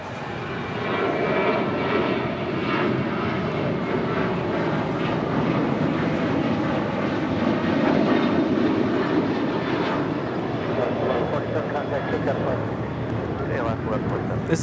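Alaska Airlines Boeing 737-900ER departing Los Angeles International Airport, a steady broad engine roar holding throughout, moderately loud and fairly close, with people talking over it.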